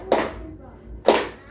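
Two sharp hand claps about a second apart, close and loud, with a faint voice in the background.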